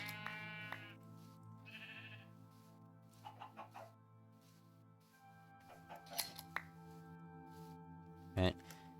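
Sheep in a video game let out several short, nasal bleats over a steady background music drone, with clucking fowl and a few game clicks and thumps mixed in.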